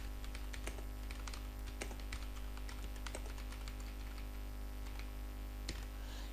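Fingers type steadily on a computer keyboard, quick light key clicks in uneven bursts over a constant low electrical hum, with no talk.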